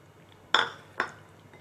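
Pieces of chicken, washed with turmeric, dropped into masala in a bowl for Chettinad chicken chukka, landing with two sharp, close clinking thuds against the bowl, a short pause between them.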